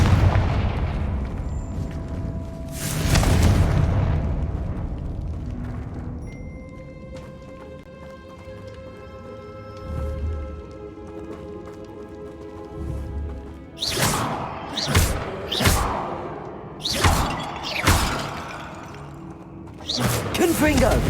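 Confringo blasting spells explode in the Hogwarts Legacy video game, with a big boom near the start followed by a rapid run of loud, sharp bursts toward the end, between quieter stretches of musical game ambience.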